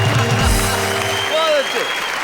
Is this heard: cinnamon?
no